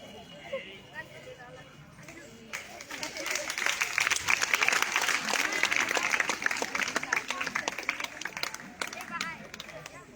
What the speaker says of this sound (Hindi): सभी बच्चे तालियां बजाएं।